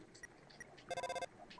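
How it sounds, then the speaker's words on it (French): A telephone rings in a video game, a single brief burst of bright electronic trilling that goes unanswered, set among soft game chimes and tones. "Téléphone de papyrus, string, ring. Pas de réponse."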